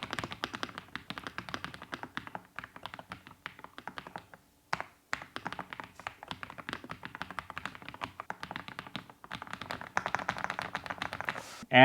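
An Epomaker TH85 mechanical keyboard with tactile switches clacks under steady, fast typing, a dense run of crisp taps with one short pause and a few louder strokes near the end.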